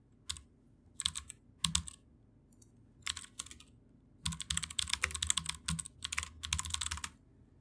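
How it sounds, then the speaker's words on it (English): Bursts of clicky typing on a computer keyboard, irregular clusters of keystrokes separated by short pauses, close and quiet with no talking. "This is typing."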